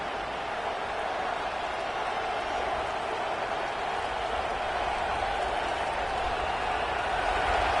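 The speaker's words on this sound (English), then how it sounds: "The roar of the crowd trying to fuel this defense to keep them pinned in their own end" Home crowd at a college football game, Penn State versus LSU, roars in a steady, sustained wash of noise that holds at an even level throughout, with no clear voice rising above it.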